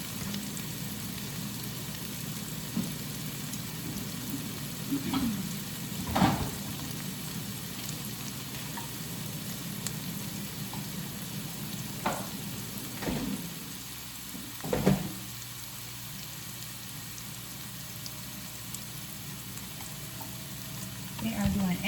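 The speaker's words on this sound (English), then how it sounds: "You guys can watch everything sizzle over here." Quiet sizzling of potatoes in a frying pan, a soft steady crackle with a few louder clatters and brief voices now and then.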